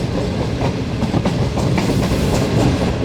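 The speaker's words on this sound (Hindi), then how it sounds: "मेन जंक्शन रेलवे स्टेशन यानी कि चादराबाग जंक्शन से ट्रेन हमारी इस वक्त गुजर रही है" Heard from aboard the Shalimar Express, a Pakistan Railways passenger train, as it rolls through Chadrabagh junction on the Lahore to Karachi run: a loud, continuous rumble with rhythmic clickety-clack of wheels over rail joints.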